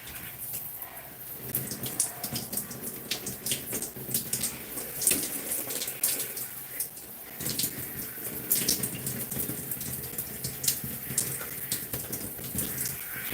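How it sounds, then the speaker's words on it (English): Running water from a bathroom tap pours steadily into a sink, a continuous close splashing hiss with small fluctuations in flow, and no voices. "I'm going to turn this water on."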